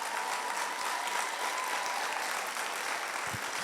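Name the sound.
audience applause at a swearing-in ceremony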